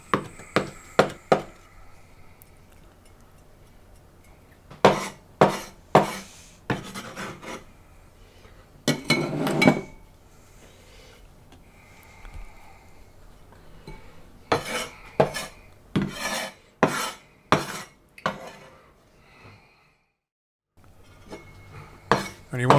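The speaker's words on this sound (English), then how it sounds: "you now want a handful of coriander and just chop it up fairly small" A knife chops a handful of coriander on a board in bursts of quick, crisp taps, some loud runs of rapid strokes separated by quieter pauses, close up with no talking.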